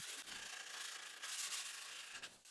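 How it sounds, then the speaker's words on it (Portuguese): Edges of a woven wooden cutting board being sanded by hand, a soft, steady scratchy rubbing that runs continuously with brief dips, close and fairly quiet, no voices. "Adicionei um pequeno arredondamento em todas as outras bordas e lixei tudo muito bem."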